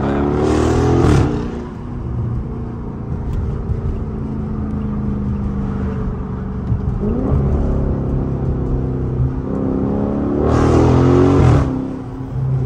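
Dodge Charger accelerating hard in two loud pulls, engine note rising sharply at the start and again near the end, with steady engine drone and road noise between.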